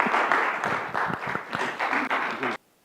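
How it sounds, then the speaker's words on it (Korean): A church congregation at a Sunday worship service claps in welcome, a moderate burst of hand claps lasting about two and a half seconds before cutting to silence. "환영의 박수 부탁드리겠습니다."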